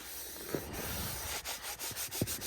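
A textured Sidekick cleaning tool scrubs a wet, grimy car seat up close, giving soft, steady rubbing and scraping strokes with a few sharper squeaks near the end, quiet and alone.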